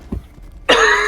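A single rough cough from someone with a cold, a short burst followed by a longer harsh, noisy exhale that carries on close to the microphone.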